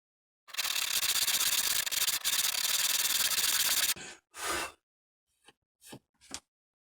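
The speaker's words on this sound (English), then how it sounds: "So next I need to file down the sides." A file rasps down guitar fret ends in one long, steady, close grinding stroke lasting several seconds, then a few short, separate scraping strokes with silence between them.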